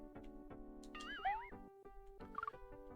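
A cartoonish cat meow from the SNES educational game Mario's Early Years, with a wavering pitch over chiming game music and sound effects, no talk.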